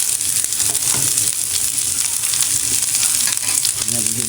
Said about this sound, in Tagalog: ilalagay na natin yung ating ampalaya. Igigisa na natin.